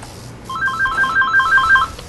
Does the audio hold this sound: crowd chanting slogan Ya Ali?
no